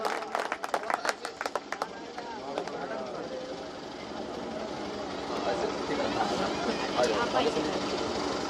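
Crowd applause at an outdoor health camp event, a burst of claps early on that settles into a steady wash of clapping and crowd noise, with speech heard over it.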